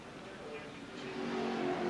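A NASCAR stock car at Watkins Glen comes off a corner sideways and accelerates, its engine roar building from a distance and growing louder, with a commentator talking over it.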